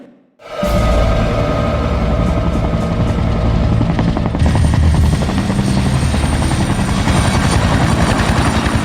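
A helicopter in the video game Resident Evil 2 starts up after a brief quiet moment into a loud, constant rotor drone and engine whine, holding steady and close for the rest of the clip.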